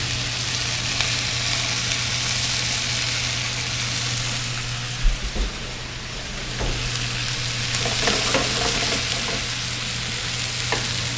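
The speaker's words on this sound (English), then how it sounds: "that's where I'll dump my broccoli. Turn it up just a little bit so that it can get hot." Broccoli stir-frying in a hot pan for a gluten-free chicken and broccoli stir fry, a loud continuous hiss and sizzle with occasional stirring knocks, close up over a low steady hum, no talk.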